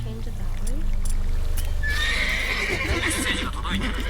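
Roach the horse whinnies in The Witcher 3, a rising neigh near the middle, with clip-clop hooves and game ambience underneath while someone talks over it.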